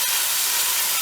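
Chopped fresh and tinned tomatoes hit a hot curry pan for a Rajasthani chicken curry, giving a loud, steady, close sizzling hiss that holds unbroken throughout, with no talk.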